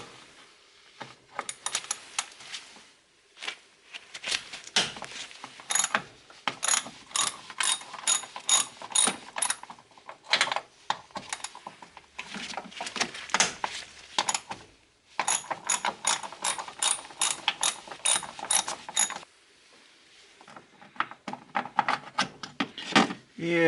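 A hand ratchet clicks rapidly while 10mm bolts are loosened on a Nissan 350Z, in close, crisp bursts of pawl clicks separated by brief pauses.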